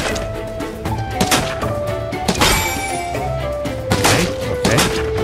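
Shots strike a target in Final Fantasy VII Rebirth, heard as several loud, close thunks and thuds that recur irregularly over a busy game soundtrack.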